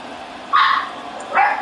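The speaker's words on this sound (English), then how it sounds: "Got a puppy in the room here with me." A puppy indoors gives two sharp, high yips about a second apart, close and fairly loud over a low room hum.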